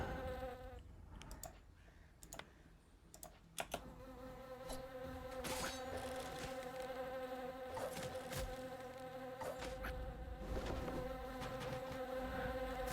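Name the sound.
bees buzzing in Dungeon Settlers video game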